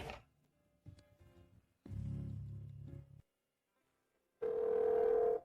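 Electronic telephone tone of a call placed to a switched-off number, a steady pure tone sounding in two short bursts separated by silence, after a stretch of quiet low rumbling and a louder burst of background noise.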